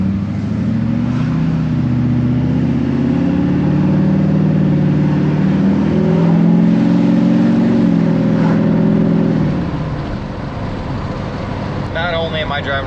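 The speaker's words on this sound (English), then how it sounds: "I love the way these Duramaxes sound, man." A diesel engine in an LBZ Duramax truck runs loud and steady with a deep low rumble, rising slightly mid-way before easing off near the end.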